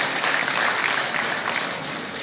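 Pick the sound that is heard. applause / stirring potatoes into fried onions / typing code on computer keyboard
applause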